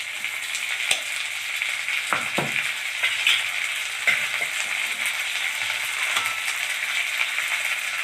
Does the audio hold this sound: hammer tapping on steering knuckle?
no